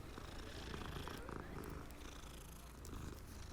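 A cat in the video game Hogwarts Legacy purrs in a low, continuous, rumbling drone that stays close and steady throughout, with no pauses.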